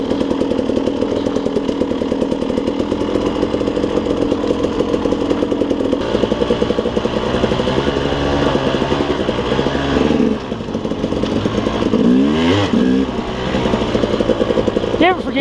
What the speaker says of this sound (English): Oh, the bike's going this fast. Sounding like this.